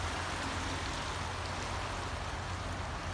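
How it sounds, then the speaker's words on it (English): A forest creek in Arapaho National Forest flows with a dense, steady broadband rush, close and continuous without pauses, and no voices over it. "got my creek here."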